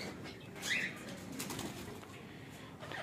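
Caged plum-headed and green ringneck parakeets flutter their wings in a quick burst near the start, with soft scuffling and a faint chirp against a low, steady background hum.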